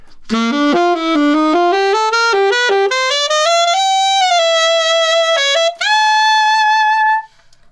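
A saxophone plays a steady run of separate notes climbing in pitch, then holds a long tone and finishes with a slight bend, loud and close, no talking.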